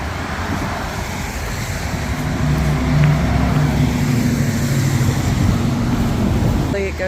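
Dense highway traffic rushes past near an overpass at Wind Gap as a continuous loud roadway roar. Vehicle tones rise and fall within it, heard from a trail beside the road.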